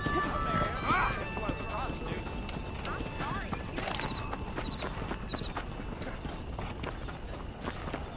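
Horse hooves clip-clop in a steady walking rhythm in the Western video game Red Dead Redemption, with an occasional whinny and someone speaking over the hoofbeats.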